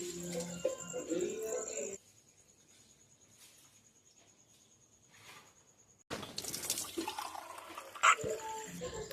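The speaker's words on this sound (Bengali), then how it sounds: "এখন আমি করছি বাথরুমটা, কলতলাটা সব সকালবেলা ধুয়ে দিতে হয়, সব ধুয়ে দিচ্ছি আমি এখন" Water splashes across a bathroom floor and tap area as they are washed in the morning, coming in loud bursts at the start and end with a quieter stretch between.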